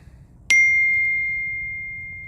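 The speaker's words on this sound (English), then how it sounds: "turn off stuff and notifications, and then the phone still decides to scream at you" A cell phone notification rings out at once as a single sharp, clear ding over a quiet low background hum, its pure tone sustaining and slowly fading across the rest of the moment.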